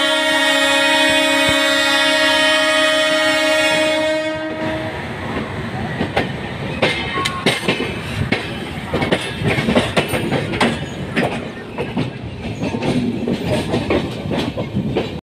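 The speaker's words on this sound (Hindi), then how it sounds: "जो अपनी ट्रेन है ये मुड़ चुकी है सहारनपुर की तरफ" An intercity express from Jalandhar to New Delhi sounds a long, loud, steady horn for about four seconds. Its wheels then clatter over the track in a continuous rhythmic clickety-clack, close and dense, with sharp clanks from the rail joints.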